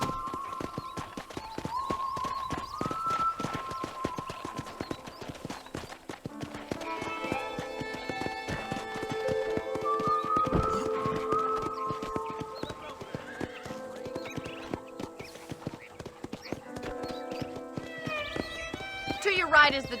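Horse hooves clop rapidly and steadily in the video game Red Dead Redemption on Xbox 360, a continuous galloping rhythm with occasional whinnies and snorts, running under people talking and background music.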